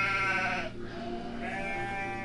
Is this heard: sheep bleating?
yes